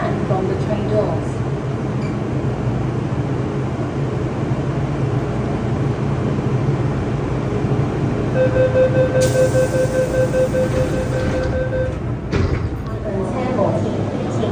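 Train doors close on a rail platform with a run of chimes and a warning tone over the steady hum of the carriage, as an announcement voice speaks in the background.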